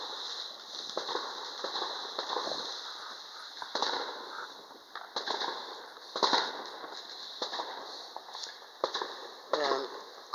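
Fourth of July fireworks pop and crackle in irregular bursts, some sharp and close, others muffled and farther off, over a constant high-pitched outdoor drone.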